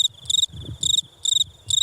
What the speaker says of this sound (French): si des petits animaux comme les criquets ou les grillons font un boucan pas possible